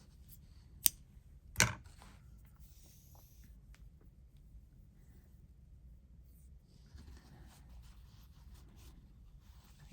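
Scissors snipping embroidery thread, two crisp close cuts in quick succession early on, then only quiet rustling room tone.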